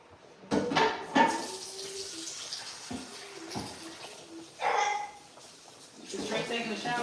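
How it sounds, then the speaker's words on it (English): A small cooking pot is rinsed under a running kitchen tap, with bursts of splashing water and clanks amid quiet room noise while people talk nearby. "let me wash this little pot real quick"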